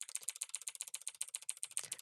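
Rapid, even keystrokes clatter on a computer keyboard, about a dozen crisp taps per second, close and clear against silence.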